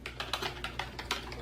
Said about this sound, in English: I'm just gonna start randomly typing, just like whatever.